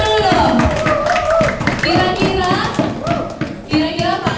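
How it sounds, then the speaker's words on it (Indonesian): Students at a vocational high school event clap for their teacher, loud and close, while voices and chatter carry on over the clapping. "tepuk tangan dulu dong"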